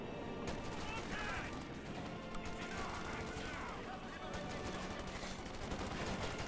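Machine gun fire in Company of Heroes 2, a Wehrmacht versus US Forces match, rattling in steady bursts over a dense battle bed of other gunfire and explosions, with commentary running underneath.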